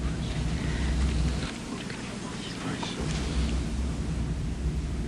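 Mighty rushing wind in a Pentecost film: a steady, broadband whoosh with low rumbling gusts fills the whole scene at moderate loudness, without a break.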